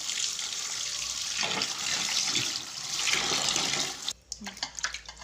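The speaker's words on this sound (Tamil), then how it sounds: "நான் மறுபடியும் தண்ணி ஊற்றி அதை எப்படி க்ளீன் பண்ணுறதுன்னு உங்களுக்கு காட்டுறேன்" Water splashes and pours steadily as a jalebi fish is rinsed and rubbed clean by hand, a loud continuous hiss that stops abruptly near the end, leaving softer drips and wet handling sounds.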